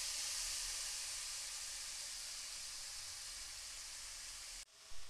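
Ground carrot dropped into melted ghee with cardamom in a pan for carrot halwa, a faint, steady sizzling hiss that holds evenly, then cuts off abruptly near the end.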